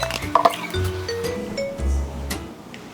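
Blended vegan mocha smoothie being poured from a blender jar, with a short splashy pour, glassy clinks and wet squishing sounds up close.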